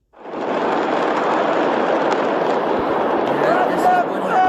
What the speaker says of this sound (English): Beirut explosion compilation.